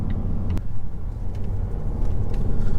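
A 300 hp Volvo V60 B6 engine drones low and steady from inside the cabin while driving, a continuous rumble with road noise and faint ticks, no talk over it.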